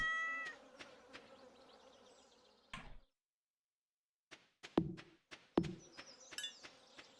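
Stardew Valley farm gameplay with a pet cat meowing briefly amid game sound effects, including a couple of sharp clicks and a short buzzing insect-like tone.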